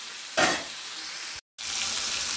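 Meat sizzles and spits steadily in a hot pan during cooking, a loud continuous fry with one brief cut to silence midway and no talking.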